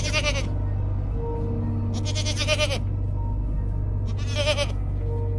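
Goats bleat in an open green field in an animated Hindi village story, three loud wavering bleats spaced a couple of seconds apart over a low steady hum.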